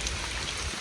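Heavy rain pours down in a forest in a steady, dense hiss with no breaks, close and fairly loud with no voices over it.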